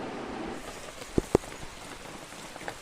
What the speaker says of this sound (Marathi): अशा थोडा थोडासा पाऊस आला ना त्यामुळे आता छत्री घेतली